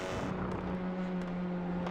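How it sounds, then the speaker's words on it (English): Honda touring car racing engine in a sim racing game, a TCR round at Hockenheimring, holding a steady loud drone with a constant pitch across a short stretch, no voices. "Love the sound of that Honda engine."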